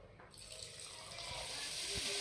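Water gushes from a tap after a brief quiet start, growing steadily louder and splashing into a sink.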